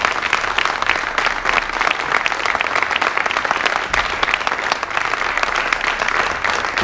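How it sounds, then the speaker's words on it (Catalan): An audience at a Pirates de Catalunya political presentation applauds, dense and sustained clapping that fills the room evenly for several seconds with no break, and a few voices are faintly mixed in. "un gran aplaudiment per la seva"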